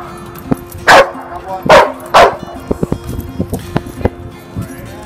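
A dog barks during aggression desensitization training: three sharp, loud barks close by in quick succession, followed by lighter scattered clicks and small noises.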